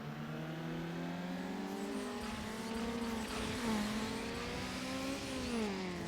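Car engine in a racing video game revving and climbing through gears, a steady loud drone rising in pitch with a shift partway through, then pulling upward again, no voices.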